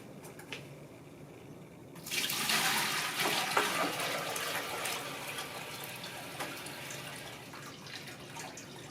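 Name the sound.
clean water poured into a biosand filter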